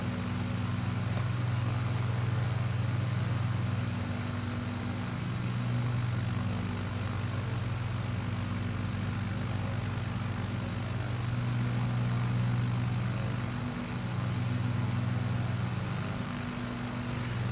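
Propeller aircraft approaching a runway near Eagle Lake in Microsoft Flight Simulator 2020, a continuous droning engine hum with steady propeller tones that swell and ease slightly, heard alone without talk.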